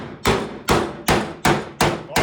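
A hammer pounds sheet metal on a wrecked 1966 Pontiac body, six loud, sharp strikes in a steady rhythm, each ringing briefly before the next, close up with no talk.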